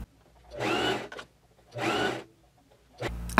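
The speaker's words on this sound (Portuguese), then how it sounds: "eu vou passar só uma costura ali, ó, porque vai ajudar a gola a virar certinho" Sewing machine stitching a seam on a shirt collar, running in two short whirring bursts and starting a third, with quiet pauses between, close up and with no talk.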